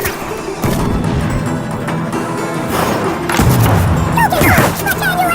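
A dynamite blast in the Western shooter Call of Juarez Gunslinger, a heavy boom and crash amid loud, dense game noise and shouting, with the rumble continuing over several seconds.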